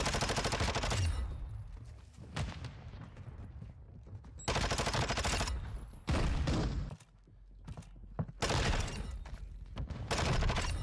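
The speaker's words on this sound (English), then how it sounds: "I just missed a couple shots." SMG fire in a Call of Duty-style video game comes in loud, dense full-auto bursts of a few seconds each, separated by brief quieter gaps, close and harsh.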